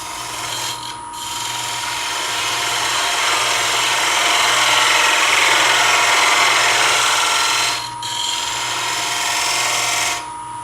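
On a lathe, a tool trues up the tenon of a wooden bowl lid, making a steady, loud rasping scrape of cutting wood that runs continuously and briefly dips twice near the end.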